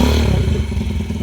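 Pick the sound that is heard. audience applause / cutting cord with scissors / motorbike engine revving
motorbike engine revving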